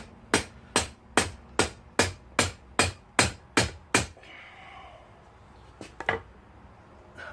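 Nine sharp, evenly spaced hammer blows ring out on hot steel while forging tongs, followed by a pause and two more quick strikes.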